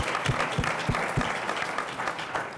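Applause from a conference audience at an economic development session, steady clapping from many hands with a few sharp low thumps early on, continuing evenly without speech.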